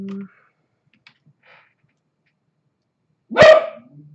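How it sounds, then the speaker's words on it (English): A single sharp dog bark rings out loud and close near the end, after a few faint clicks and near-silence. "oh, dog's barking."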